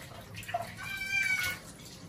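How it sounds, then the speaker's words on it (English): A Sphynx cat meows during a bath, giving a couple of short, fairly close meows, one plaintive and rising, over the wash of running water and light splashing. "The meows are so cute."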